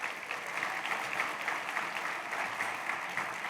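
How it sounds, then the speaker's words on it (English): A conference audience at a community finance gathering gives steady, even applause for an agency director. The clapping is continuous and fills the room at a moderate distance, with no one talking over it. "that deserves a round of applause for Jodie."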